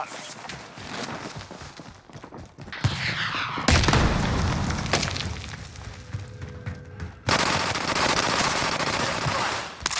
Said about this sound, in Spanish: ¿Qué coño nos está disparando?